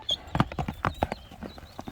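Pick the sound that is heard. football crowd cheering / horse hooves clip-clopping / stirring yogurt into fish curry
horse hooves clip-clopping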